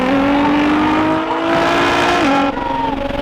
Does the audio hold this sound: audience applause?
no